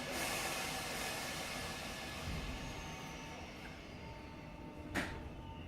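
A South Western Railway Class 456 electric train stands at a platform, its steady hum and rumble filling the scene, with a brief door or mechanical clunk near the end.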